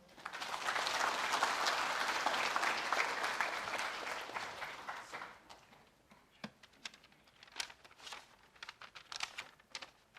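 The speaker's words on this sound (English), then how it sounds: "Maybe you could just give him a round of applause again" Audience applauding the chief guest at the opening of the USP Entrepreneurial Fair 2021, a dense burst of clapping that swells, then thins out into scattered individual claps.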